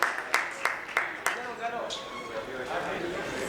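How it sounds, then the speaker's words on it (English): A handful of distinct, evenly spaced claps ring out from an audience for three prize winners at an event, then fade under talking and background crowd murmur. "Big round of applause to them"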